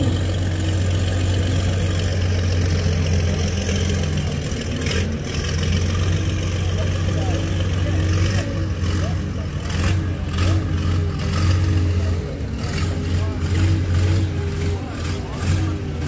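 A Cummins-powered Indianapolis race car engine, taken out of a museum, runs with a steady low idle and slight revving swells, heard close throughout, while people talk over it.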